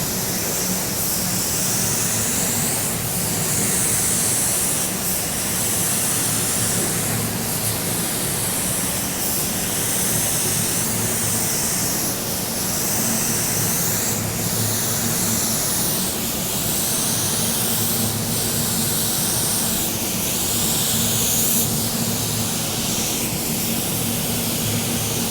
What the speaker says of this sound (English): Now let's use those settings and spray down our base coat.